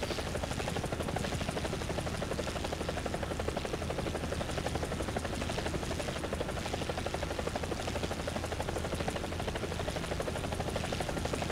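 Helicopter in the War Thunder combat game flying a long stretch toward the fight, a steady loud rotor thrum and turbine buzz running unbroken throughout with no voices.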